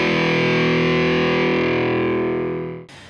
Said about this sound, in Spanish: la saturación de los amplificadores para producir ese sonido